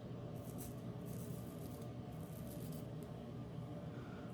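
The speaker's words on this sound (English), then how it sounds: "this first pass is just going to be whacking the hair off." Steady close scraping of a straight razor through thick beard hair, a continuous dry rasp with faint rhythmic swells of strokes, no voices.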